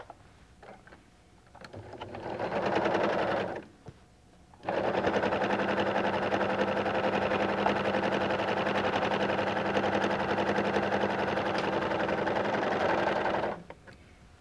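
A Husqvarna Viking Huskylock 1000 serger stitches stretchy knit fabric in two close, fast-chattering runs: a short burst, a brief pause, then a long steady run that stops abruptly.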